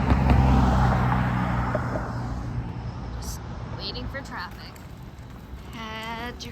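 Road traffic near a street outside a convention venue early in the morning, a steady low rumble of passing vehicles fading slightly over time, with people talking nearby.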